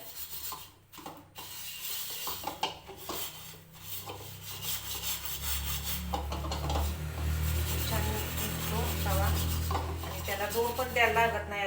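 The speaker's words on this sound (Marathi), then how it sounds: "आता खूप छान असं निघतो तवा हलकी हाताना असं घासून घेते" A blackened iron tawa, already heated with lemon on the gas and now only lukewarm, is scrubbed by hand, giving a close, steady rasping rub with light scraping that grows fuller and busier toward the end.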